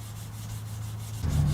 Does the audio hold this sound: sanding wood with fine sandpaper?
yes